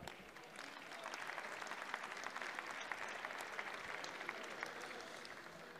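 Lawmakers in the French National Assembly chamber break into sustained applause, a dense, even roar of many clapping hands that swells slightly and holds steady, somewhat distant, with no voices over it.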